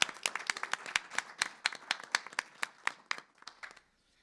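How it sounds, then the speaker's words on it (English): A small audience claps for a university career design team at a career week event, distinct claps in a steady patter that thins out and stops near the end, with no talk over it. "Can we just give a big round of applause to our amazing Career Design Lab"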